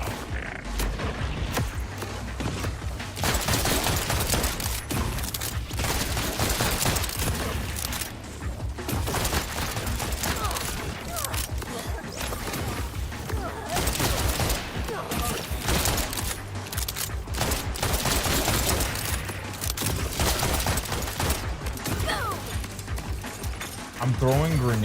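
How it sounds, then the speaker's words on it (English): Grenades thrown at an enemy in the video game Borderlands, repeated bursts of blasts and mechanical clatter amid dense game noise, with a voice talking over the action throughout. "I'm throwing grenades at an enemy that has the same element as that."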